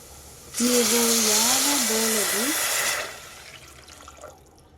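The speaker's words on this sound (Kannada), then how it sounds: "ನೋಡಿ, ಈಗ ಇದಕ್ಕೆ ನಾನು ನೀರನ್ನು ಸೇರಿಸ್ತಾ ಇದ್ದೀನಿ." Water poured into a pan of almond soup makes a loud, steady rushing pour lasting about two and a half seconds, then cuts off, with a faint voice overlapping during the pour.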